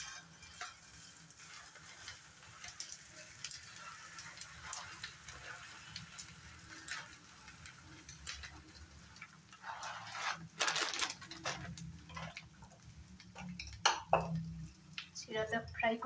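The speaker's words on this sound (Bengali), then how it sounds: "এই ঘি আর তেলের মধ্যেই সিরাটা দিয়ে দেব।" Flattened rice (chira) frying and being stirred in ghee and oil, a steady close sizzle with scraping stir strokes and pan clatter, speech faintly heard over the cooking at times.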